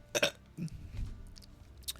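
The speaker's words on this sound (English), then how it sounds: "I'm just gonna burp and die apparently on stream." A single burp from a streamer, made of a short rough burst followed by a lower gurgling rumble, close to the microphone, with a faint click near the end.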